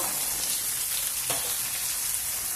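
Ginger garlic paste fries in a pan for rice, giving a steady, even sizzle throughout with one brief scrape or stir partway through, with no voices.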